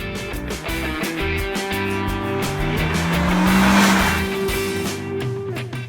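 A 2016 Kia Sportage with a 177 hp 1.6-litre turbo petrol engine is driven, its engine drone loud and continuous, swelling in pitch and volume midway before easing off.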